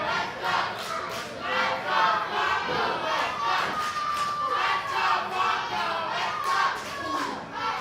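Crowd at a live independent wrestling show yelling and cheering in rolling waves, distant and reverberant, with chants rising and falling and faint commentary voices mixed underneath.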